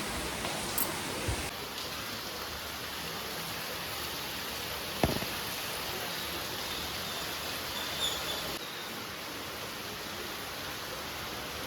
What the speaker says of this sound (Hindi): बहुत ज़ोरों की बारिश हो रही है